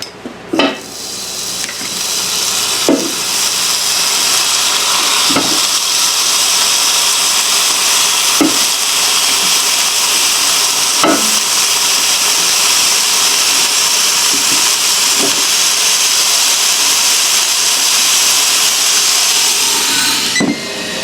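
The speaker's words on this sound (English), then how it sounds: "So now I'm going to start adding my chicken tenders." Raw chicken tenders are laid one by one onto a preheated Ninja Foodi grill, each placement a light clack over a constant loud hiss of the running appliance.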